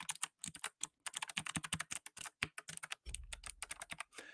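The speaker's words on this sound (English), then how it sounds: "It's got those loud clicky keys." Rapid typing on a mechanical keyboard with loud clicky keys, dense sharp clicks in quick uneven bursts, close and alone, with a brief low thump near the end.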